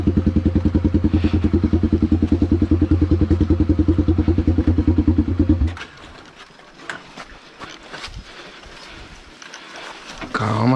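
Honda CB motorcycle descending a wet dirt trail: a loud, close engine idling in a rapid steady pulse for several seconds, then cutting out into scattered clattering, scraping and skidding sounds.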